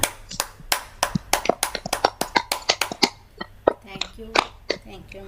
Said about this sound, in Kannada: ಚಪ್ಪಾಳೆ ಮೂಲಕ ಧನ್ಯವಾದವನ್ನು ಅರ್ಪಿಸೋಣ